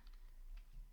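Quick, light keystrokes on a computer keyboard, a few soft clicks in under a second against a quiet background with no speech.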